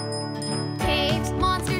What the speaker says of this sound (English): I've got a special bell that takes care of it all